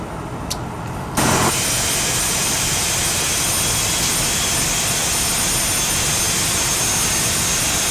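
Cessna Citation II jet engines spool up in the Prepar3D flight simulator, a sudden loud steady roar with a high whine that begins after a second of quiet hiss and holds without letup.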